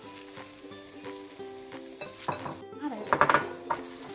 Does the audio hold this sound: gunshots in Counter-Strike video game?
no